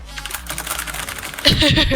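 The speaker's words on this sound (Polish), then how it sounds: "Bo to stukanie klawiatury to jest masakracja." Rapid keyboard typing heard close up during a CS:GO gaming session, a dense run of clicks that grows louder and heavier near the end, with no talking over it.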